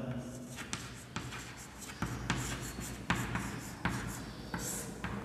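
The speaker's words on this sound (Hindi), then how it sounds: "सबसे पहले हम इसका अलंकार का लक्षण लिखेंगे" Chalk or pen scratches and taps against a board or paper in a series of close, sharp strokes and rubbing sounds, with faint room noise and talk in the background.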